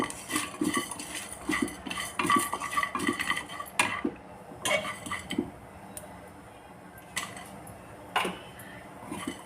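Black peppercorns and a few cloves dry roasting in a pan for chicken masala gravy, with a rapid spoon scraping and light, clinking rattles of spices against metal, close and without talk.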